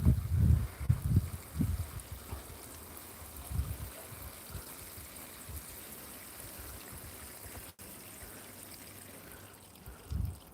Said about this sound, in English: So we'll just give them a quick water.